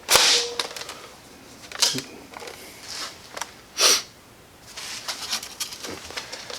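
An off-brand toy rocket launches with a sharp close pop and hiss, followed by a few softer whooshing bursts and faint thumps spread over several seconds.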